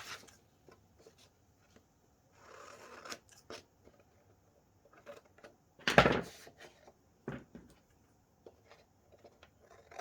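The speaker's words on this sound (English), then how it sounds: "let's use scissors" Scissors snip through a book page of paper in a few quiet, crisp cuts, alongside soft rustling and handling noises, with no talking.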